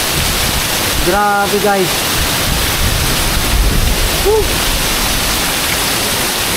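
Strong river current rushing steadily in Mindoro, a loud, broad continuous roar of flowing water, with a man briefly exclaiming over it near the start.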